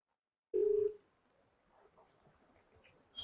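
A telephone being dialed, heard as one short, loud electronic tone lasting under half a second, followed by faint room noise and a soft click at the end.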